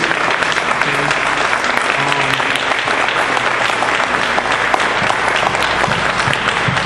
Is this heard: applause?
yes